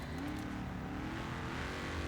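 A car driven in the racing game Forza Horizon 4, its engine holding a steady, loud drone with gear-like pitch sweeps and some tyre noise throughout.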